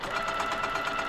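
A sewing machine stitches a quilt block with a rapid, steady mechanical chatter, close and uninterrupted for about a second.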